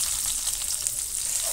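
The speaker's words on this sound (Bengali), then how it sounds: "কড়াতে একটু সর্ষের তেল দিয়ে দিচ্ছি অল্প একটু কালো জিরেটা 2-1 মিনিট ভালো করে ভেজে দিয়ে দিলাম" Nigella seeds fry in mustard oil in a kadai, giving a dense, steady hiss and crackle of hot oil close up, continuous and fairly loud with no voices.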